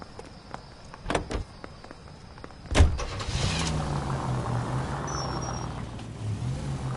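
A car in the L.A. Noire video game: a door thunks shut near the start, then the engine starts and idles steadily at close range with a low rumble, no voices.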